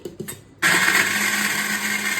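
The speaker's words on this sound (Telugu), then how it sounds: "మిక్సీ పట్టుకున్నాను." A kitchen mixer grinder starts up suddenly and whirs steadily and loudly while grinding coconut chutney with tamarind and tomato. A few light clinks come just before the motor starts.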